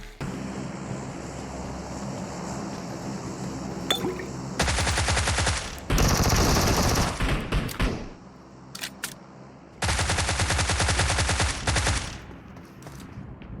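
Two long bursts of rapid automatic gunfire in PUBG Mobile, loud and close, separated by quieter game ambience and a few isolated shots.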